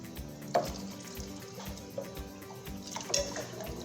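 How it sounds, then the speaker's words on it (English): Clam broth pours into a hot pot for clam chowder, a continuous liquid sizzle and bubbling with a few louder splashes, close and moderately quiet. "I'm going to add my clams broth"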